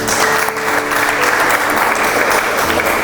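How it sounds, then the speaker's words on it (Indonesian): Loud, continuous clapping from a congregation during an Indonesian Sunday church service, a dense steady roar of applause with a low hum of instruments or crowd beneath. "Tepuk tangan untuk Tuhan"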